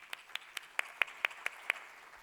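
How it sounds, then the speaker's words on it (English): Scattered applause for a panelist at an innovation summit: a short run of about eight evenly spaced, faint claps over quiet room tone, with no voices. "a round of applause for our last panelist"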